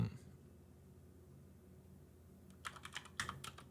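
Soft computer keyboard typing during a tabletop role-playing session, with a short burst of rapid key clicks near the end over a quiet room background.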